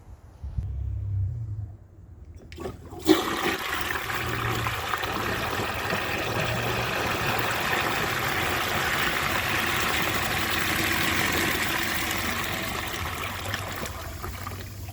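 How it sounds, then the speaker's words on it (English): Small flush of a 1921 Standard Ejecto toilet fed by an 18-gallon high tank: a loud, sudden rushing roar of water that starts after a few quiet seconds and keeps gushing steadily to the end, with no talking. "Absolutely epic flush, and that's the small flush being a relative term"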